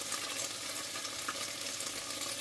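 Chopped onion sizzles in hot oil in a pan for ampalaya con sardinas, a close, steady, dense frying hiss that carries on evenly with no talking.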